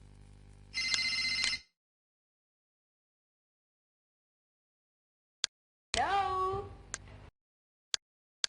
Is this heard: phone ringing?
yes